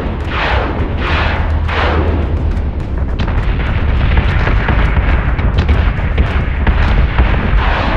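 Starship guns firing in a space battle in the Battlestar Galactica Deadlock game, a dense, continuous barrage of heavy booming shots and explosions, loud and close throughout, with no talking.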